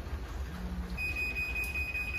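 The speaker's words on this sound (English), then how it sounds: "it's beeping, meaning it's warning that the garage door will be closing" Chamberlain garage door opener sounding its warning before the door closes: a steady, high electronic tone begins about a second in and holds over a low background hum.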